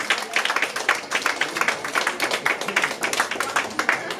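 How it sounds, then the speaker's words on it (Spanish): Audience at a networking recognition ceremony applauding a leader, dense steady clapping from a crowd filling the whole stretch, fairly loud and close. "Un aplauso fuerte para nuestro líder Jorge Suárez."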